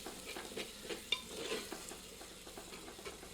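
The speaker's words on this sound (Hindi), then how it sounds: "एक बार अच्छी तरह स्टर करते हैं।" Onions are stirred while frying in a clay pot, with soft scraping strokes repeating over a quiet, steady sizzle and a few light clinks, close by and low in level.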